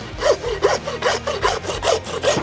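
Bone is sawn off a wagyu beef forerib being trimmed into an oven-prepared rib, giving close, loud back-and-forth rasping strokes in a regular rhythm of about six pulls.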